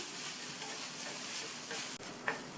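A coconut mixture sautés in oil for turnip poriyal, a gentle, faint, continuous sizzle with a couple of light spoon clicks against the pan.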